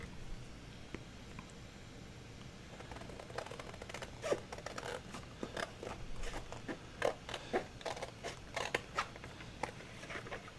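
Scissors trim junk-mail envelope paper for a handmade clutch journal: a quiet stretch, then a run of short, irregular snips and paper rustles, close and fairly soft.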